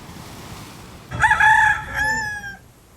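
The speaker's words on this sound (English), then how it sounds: "The roosters will be up early, and so will I." A rooster crows nearby on Kauai, Hawaii, one loud drawn-out call with a falling tail, standing out against faint outdoor background noise.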